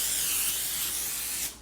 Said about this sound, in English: I'm going to just spray olive oil